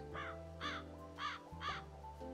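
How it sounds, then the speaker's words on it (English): In a cosy cat cafe video game, a crow caws four times at an even rhythm, clear and close, over a soft sustained musical backdrop. "It still sounds like a crow."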